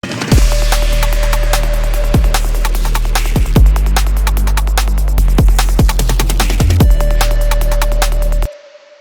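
A loud, sustained brass-style synth bass line drives under a busy drum and bass beat with sharp percussive hits, then cuts out, leaving a faint tone.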